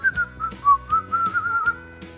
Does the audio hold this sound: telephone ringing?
no